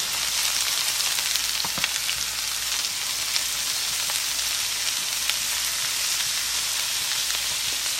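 Onions frying in a pan produce a loud, continuous sizzle with faint crackles throughout, heard alone without any voices.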